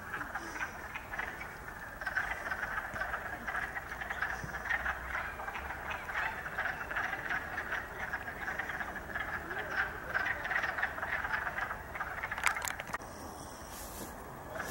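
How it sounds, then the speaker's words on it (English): A dense chorus of leopard frogs croaking continuously from a marsh in spring, a steady rattling drone with no talking, moderately distant. "there seems to be a lot of leopard frog sounds here"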